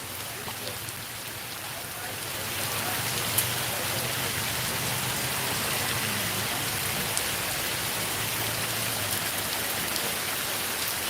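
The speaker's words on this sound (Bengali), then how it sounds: "বৃষ্টি ধীরে ধীরে কমছে বোধহয় এখন ছেড়ে যাবে" Heavy night rain pours in Sylhet, a dense, even roar of drops on surfaces that grows louder after the first few seconds and holds steady, with a faint voice underneath.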